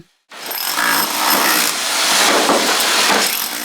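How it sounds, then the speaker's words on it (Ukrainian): A power tool chips old plaster off a wall of a historic building in central Poltava during conservation work, a loud, close, continuous rattling hammering that starts abruptly and grinds on steadily. "одній зі стін будинку дворянського зібрання у центрі Полтави оббивають штукатурку"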